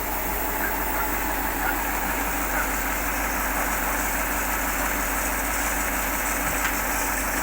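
A T-150 tracked tractor engine idles steadily at close range, a continuous low rumble with a rough mechanical texture and no voices.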